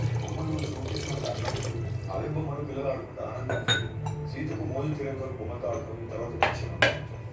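Water is poured from glasses into a cooking pot of spices for mushroom pulao, a splashing stream accompanied by clinks of glass against metal, with faint talk in the background.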